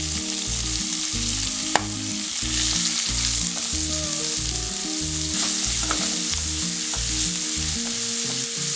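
Onions sizzle steadily in hot oil with ginger, garlic and green chili for a Chicken Tikka Masala base, with an occasional stir and clink, while rhythmic background music plays throughout.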